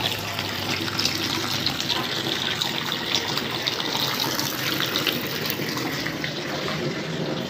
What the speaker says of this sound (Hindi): यहाँ से इसका पानी निकल रहा है।